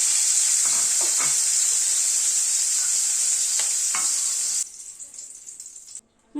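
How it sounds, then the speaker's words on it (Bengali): Shrimp sizzling and crackling loudly in hot oil in a pan while being tossed, a bright continuous fry with occasional stirring scrapes, then the sizzle abruptly drops away to quieter bubbling near the end. "চিংড়ি মাছ কিন্তু খুব বেশি ভাজতে নেই, জাস্ট হালকা করে একটুখানি টস করে নেওয়া।"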